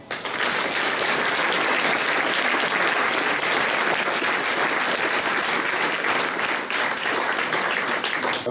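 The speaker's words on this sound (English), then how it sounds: "So to start with, I would ask that you give them applause for their life." Sustained, dense applause from a crowd at a 9/11 memorial stair climb honoring fallen first responders, steady and full throughout without a break.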